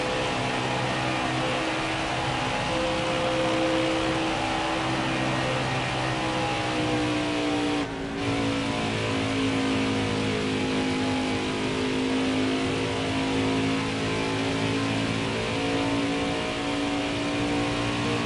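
NASCAR Craftsman Truck Series race trucks roar past at Auto Club Speedway, a steady loud engine drone with shifting pitch as the pack runs the final lap of stage 2, no talk over it.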